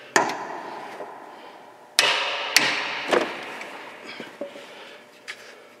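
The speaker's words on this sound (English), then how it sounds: "I'm gonna give it a couple of taps with the hammer, see what happens." A hammer strikes a bolt through a car's lower control arm bushing, with several sharp metallic taps spaced irregularly, a few louder blows standing out against quieter knocks.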